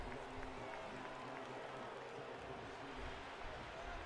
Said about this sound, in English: This crowd is going wild. They're going loud.